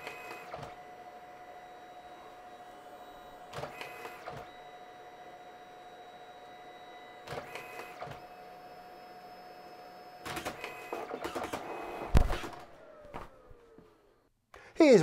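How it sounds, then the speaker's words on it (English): A printer runs through a photo print sent wirelessly via an AirCastPro 3, with a steady mechanical hum, repeated whirring feed passes and clunks, ending in a short burst of motor noise; a voice is heard in places. "8 seconds later, it starts to print."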